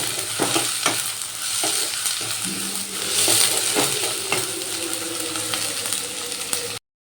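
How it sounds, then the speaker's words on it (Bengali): Sliced onions fry in a pan for a fish belly curry, a steady close sizzle broken by scraping strokes of a spatula stirring them, before the sound cuts off abruptly. "এবার পেঁয়াজগুলো একটু ভাজা ভাজা করে নেব"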